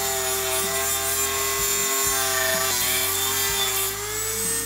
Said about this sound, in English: Then I just marked where I wanted the charger to sit and started cutting with my Dremel.